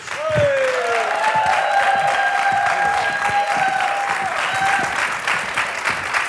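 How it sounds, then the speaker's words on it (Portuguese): A studio audience on a Portuguese afternoon TV show applauds steadily and loudly throughout, a dense wash of clapping with a crowd murmur and a faint sustained musical tone underneath. "A vossa salva de palmas para o José Gonçalves"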